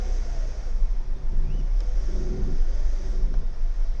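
A Mercedes W209 with dirty fuel injectors starts and runs roughly: a steady, loud low rumble with an uneven, lumpy idle and some wavering in the engine note.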